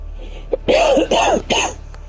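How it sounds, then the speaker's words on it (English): A few short, rough coughs with throat clearing, close up, in a quick sequence of three bursts. "Still got a bit of a cough"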